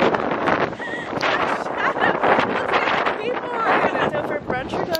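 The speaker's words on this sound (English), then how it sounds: "It's so windy." Gusty wind in New York City buffets the microphone in a steady roar while people talk over it close by.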